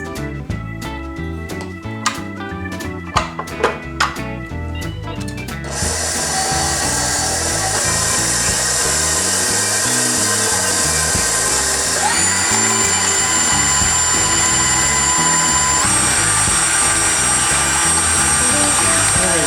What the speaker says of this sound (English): I've got in the mixer, I've got 2 sticks of unsalted butter.